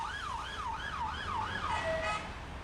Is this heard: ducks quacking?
no